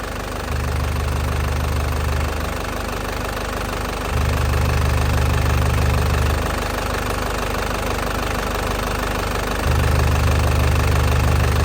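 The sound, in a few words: Isuzu Panther LS Turbo 2010 diesel engine idling, engine hot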